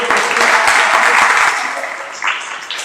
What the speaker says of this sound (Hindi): उसके लिए जोरदार तालियां बजा दो